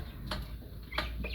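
Light Columbian Brahma chickens on a fancy hen farm give two short, soft clucks a moment apart over a low background hum.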